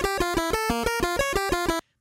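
An NES-style chiptune melody from Venture Kid repeats with echoes, bright square-wave notes bouncing in quick even steps before stopping abruptly into silence.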